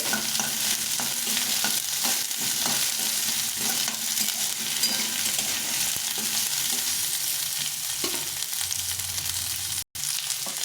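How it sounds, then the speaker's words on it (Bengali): Winter vegetables stir-frying in a pan for vegetable chowmein, a steady loud sizzle with stirring and scraping throughout and a brief break near the end. "সব একটু করে ভেজে ভেজে নেব"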